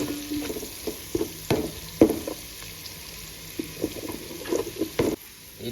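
Raw chicken drops into hot oil with no water, giving quiet crackling sizzles and scattered stirring knocks, close and fairly soft, with no talk.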